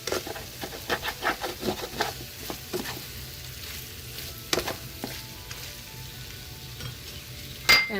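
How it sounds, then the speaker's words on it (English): Chicken strips frying with masala in a pan, a steady close sizzle broken by repeated scraping, stirring strokes against the pan bottom. "We're going to toss it in, scrape up anything that is stuck to the bottom of the pan"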